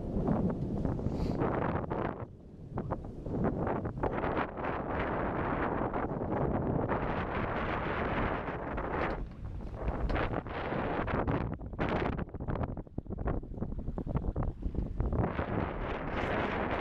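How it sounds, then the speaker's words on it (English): The sailboat S/V Corsair under sail on Roanoke Sound, with steady, loud wind buffeting the microphone throughout and a continuous rush of moving air and water. "Now we're sailing."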